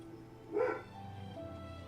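A dog passing outside with someone walking it gives a single short, muffled bark, heard indoors at moderate distance over a quiet background hum.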